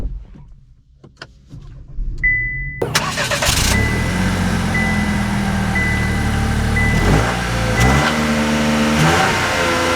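A 2024 Chevy Trax RS starts nearby after a few quiet interior clicks and a short electronic tone, with a sharp crank and catch settling into a steady idle with small rises in revs.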